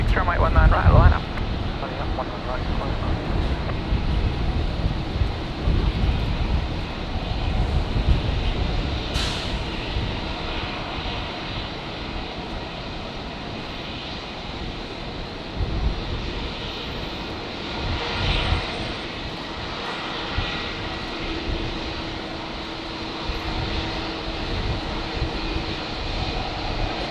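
A jet rolls for takeoff on runway 19 right at Brisbane Airport on a windy day, a broad roar heard from a distance, rising and fading under intermittent air traffic control radio chatter.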